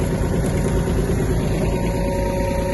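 A Japanese Kubota A-15 mini tractor's small engine runs at a steady, close idle, chugging evenly and loudly with no voices over it.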